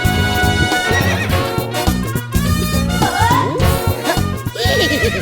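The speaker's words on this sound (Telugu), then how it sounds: "ఎవడన్నా గుర్రం ఎక్కుతాడు, వీడేంటో గుర్రాన్ని ఎక్కించుకున్నాడు" A horse neighs loudly in a film scene, giving several shrill, wavering whinnies over music, with hooves clip-clopping.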